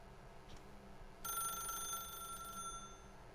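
A telephone rings in The Stanley Parable video game, a faint electronic bell tone starting partway through and lasting about a second and a half over a quiet low hum.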